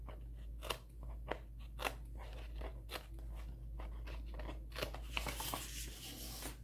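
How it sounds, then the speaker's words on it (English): Scissors snipping through washi tape at a planner desk, a string of close, sharp crunchy cuts spaced about a second apart, with a soft steady hum underneath and no talking. "I'll trim off this washi tape here."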